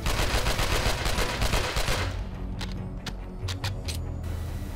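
A video game firefight with a dense, loud blast of explosions and gunfire for about two seconds, then several separate sharp shots over a lingering rumble.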